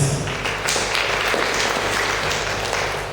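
Audience applause at a school excellence day ceremony in Sokone, a steady broadband patter of clapping that continues at an even level throughout, slightly muffled with a low background hum and no distinct voices.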